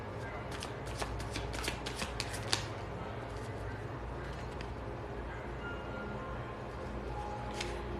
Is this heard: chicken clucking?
no